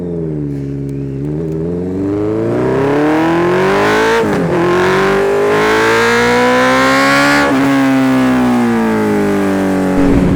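A Honda CB 650F with an inline-four engine, heard loud and close without any talk. It revs up in a rising, smooth multi-toned howl, dips briefly and climbs again as the motorcycle passes.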